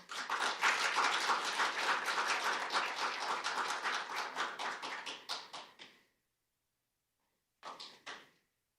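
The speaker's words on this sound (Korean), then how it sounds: "큰 박수로 환영해 주십시오" Audience applause at a Human Rights Day seminar as a speaker is welcomed: dense, steady clapping from many hands for about six seconds that thins out and stops, then a brief second burst of claps.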